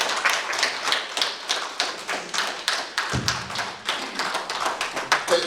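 Applause from an audience for a speaker at a human rights event, a crowd clapping steadily and close with sharp overlapping hand claps and one soft thud partway through, without speech.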